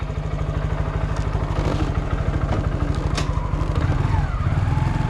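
A Honda Grom motorcycle revs and pulses through wheelies in a wet parking lot, its small engine giving a close, rhythmic buzzing drone with clattering bursts.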